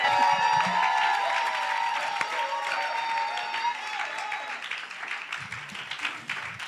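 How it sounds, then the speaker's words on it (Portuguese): Congregation applause at a church service in Calgary, Canada, welcoming a bishop: a steady, dense wash of clapping across the whole stretch, with sustained musical tones over it that fade toward the end. "Batam palmas e vamos receber o bispo para nos abençoar."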